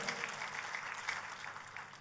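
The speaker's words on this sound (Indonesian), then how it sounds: "Tepuk tangannya boleh yang meriah buat Tuhan kita" Worshippers in a church clap enthusiastically, a continuous crowded patter of hands at even volume across the whole moment, with no voice above it.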